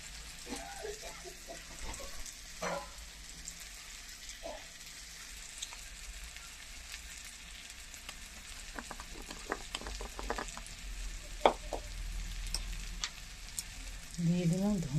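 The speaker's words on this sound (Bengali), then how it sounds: "দিয়ে দিলাম জিরে গুঁড়ো। সুন্দর করে মশলাটা কষালে" A spice paste with ground cumin fries in a pan, giving a low continuous sizzle with scattered stirring scrapes and clinks, and a voice talks over part of it.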